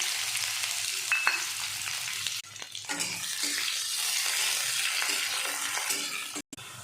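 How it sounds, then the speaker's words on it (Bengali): Chopped onion fries in oil with a loud, continuous crackling sizzle. It dips briefly as the pan is stirred and cuts out for a moment near the end, and no one speaks. "এরপর কেটে রাখা পেঁয়াজটা তেলের উপরে দিয়ে দিলাম"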